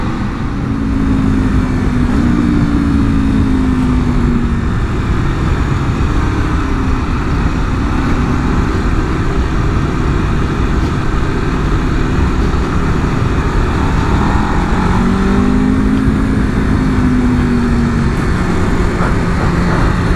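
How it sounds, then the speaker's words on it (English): An Aprilia RSV4 superbike, a 2026 model fitted with a replacement engine, rides over a bumpy road. Its engine holds a steady, loud drone throughout, with wind rush and some rising and falling tonal sweeps, and no one talks. "Love bumpy roads on a superbike"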